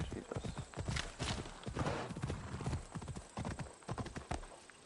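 Horse hooves clip-clop steadily in Assassin's Creed Odyssey, a close, loud and fast rhythmic stream of hoof strikes that continues throughout with only brief dips.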